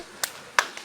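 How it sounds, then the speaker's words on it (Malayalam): A few sharp hand claps from a small group at a backyard swimming pool during lockdown, two distinct close claps and a fainter third, scattered and brief, with no talk. "എല്ലാവരും കൈയടിക്കോ."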